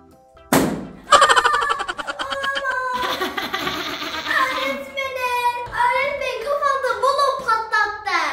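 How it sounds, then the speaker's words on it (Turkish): In a school classroom scene, a sudden sharp pop bursts out near the start, followed by a second thump. Bright, cartoonish tones and lively young voices then carry on after it. "Balon mu patlattı?"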